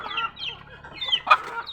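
Backyard chickens with a single chick cluck softly and close by, with a few scattered clucks and one sharper, higher call near the end.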